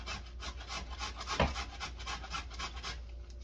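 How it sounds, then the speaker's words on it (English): Cauliflower is rubbed against a grater in quick, even rasping strokes, a rhythmic close scraping repeated steadily over a few seconds. "I'm gonna keep on grating my cauliflower here."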